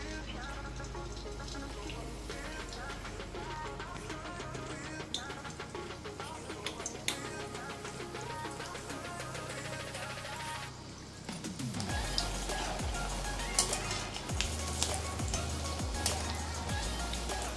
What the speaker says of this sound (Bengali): এবার আমি একটা একটা করে বড়া ছেড়ে দেবো।